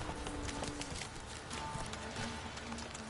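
Galloping horse hooves in The Witcher 3: a steady, rapid clip-clop rhythm that runs through the whole clip over a dense game soundscape, with faint voice-like sounds in the background.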